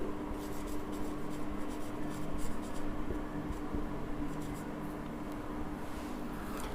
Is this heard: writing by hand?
yes